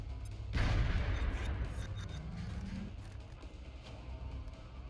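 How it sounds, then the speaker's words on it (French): A grenade goes off in the XCOM: Enemy Within video game as a single sharp, booming blast that fades into a rumbling tail, fairly quiet overall. "Grenade."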